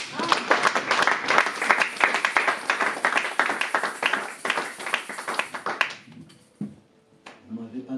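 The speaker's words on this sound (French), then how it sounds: "Est-ce qu'on peut acclamer les Seigneurs?" A church congregation applauding in praise of the Lord, dense rhythmic clapping from many hands filling the room for about six seconds before stopping abruptly, followed by a few faint sounds.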